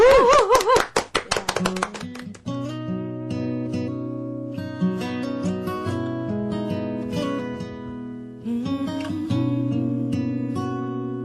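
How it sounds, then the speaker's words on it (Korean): An audience gives a short burst of applause for a singer at a live performance of a Korean ballad. The dense clapping fills about the first two seconds, then fades as the song's accompaniment begins. "박수로 청해 듣도록 하겠습니다"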